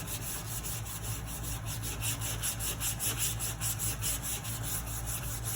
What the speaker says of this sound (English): Use another area that's not been used yet to sand.